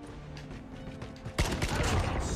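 Gunfire in Call of Duty Mobile begins with faint scattered shots, then a loud burst of rapid automatic fire erupts midway and keeps going with dense crackling reports.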